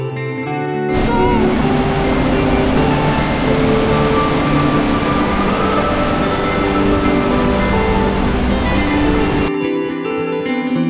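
Norwegian fjord waterfall in full June snowmelt flow, a loud, dense, steady roar of falling water that fills nearly the whole span before cutting off abruptly.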